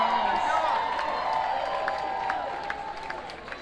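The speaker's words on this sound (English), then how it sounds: "How about a round of applause?" Concert audience at a show in Fairfield, Connecticut, May 2019, applauding and cheering for the opening act; a steady wash of clapping and crowd noise, fairly full and sustained, thinning slightly toward the end.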